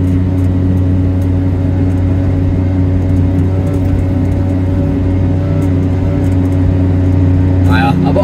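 A Piaggio Ape 50 engine drones steadily and loudly up close as the clutch is engaged and throttle applied, a constant low hum with a brief rising whine near the end.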